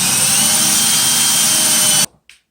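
A power drill pre-drills a screw hole into a wall stud for a floating shelf bracket, whining steadily and loud up close for about two seconds before cutting off, followed by a faint tap.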